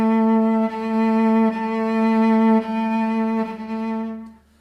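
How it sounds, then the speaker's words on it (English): A cello bowed close to the bridge (ponticello) sustains a bright, glassy tone rich in upper overtones, with a few bow changes before it fades out. "To play very close to the bridge is called ponticello."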